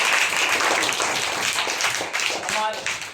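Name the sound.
audience applause for a student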